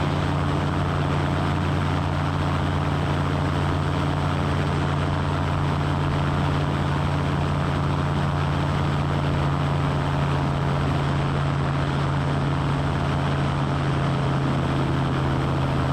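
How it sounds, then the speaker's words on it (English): Seaplane propeller engine droning steadily during a water landing run at around 4,300 rpm, a loud, constant hum with strong low tones and no talking. "just when you hear that engine start to slow down a little bit"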